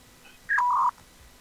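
A character voiced as a telephone gives a short electronic tone, one brief two-part beep followed by a steady held note lasting under half a second, faint and clear with no talking over it.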